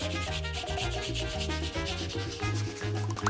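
Rubbing and scraping on a clay miniature door to add a wood-grain texture, a steady run of short, repeated strokes close to the microphone.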